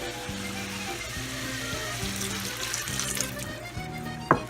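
A sauce mixture is poured into a hot pan of cooked shrimp, producing a steady liquid sizzle with a faint rhythmic hum underneath and a sharp clink near the end.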